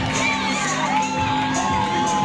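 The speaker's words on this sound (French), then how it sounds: "Si on peut applaudir." A crowd of schoolchildren at a school science day cheers and shouts together, a loud, continuous mass of high voices with whoops rising over it, close and filling the whole moment.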